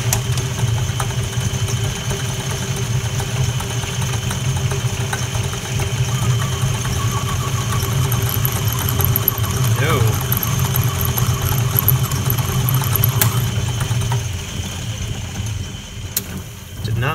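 A lathe cuts easy-to-machine 316 stainless steel with a brazed carbide tool, giving a steady droning machine hum with a thin, higher cutting whine mid-way, continuous throughout.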